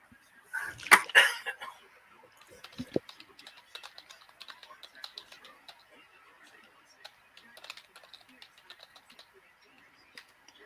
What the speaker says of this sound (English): Sound like he's tapping away on the keyboard.